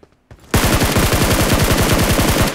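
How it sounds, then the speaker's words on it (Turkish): Loud, close automatic gunfire in the PUBG Mobile game, a rapid sustained burst of evenly spaced shots following a couple of softer single reports. "Arkadan da sıkan var bu arada."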